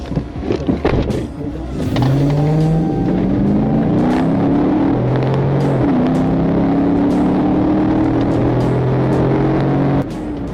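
A Nissan fleeing police speeds off in a high-speed chase, its engine revving up loud and close, rising through gear changes and then holding a steady roar.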